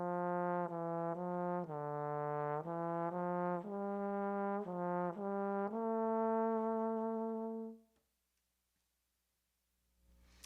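A solo trombone plays a smooth, connected legato etude phrase of sustained notes stepping through pitch changes, close and clear, ending on a held note followed by silence.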